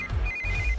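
A phone ringing, a short electronic ringtone with a steady high tone, heard close and alone.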